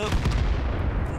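A heavy, low booming report from an SU-14-1 self-propelled artillery gun firing in World of Tanks, rumbling throughout a brief moment.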